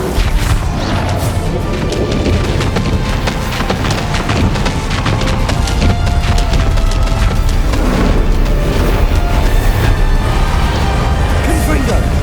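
A Bombarda spell explosion in Hogwarts Legacy booms amid a dense, continuous wash of loud combat effects and crashes, with a voice speaking over the din.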